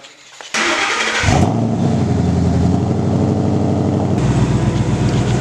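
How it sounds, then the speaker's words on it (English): A car with an X-pipe exhaust cranks briefly, then fires up with a sudden loud roar and settles into a deep, rumbling idle that gets a touch louder near the end, close to the listener. "This is really loud when you start it up."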